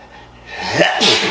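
A single loud, close sneeze: a short breathy intake building into a sharp burst, with no talking.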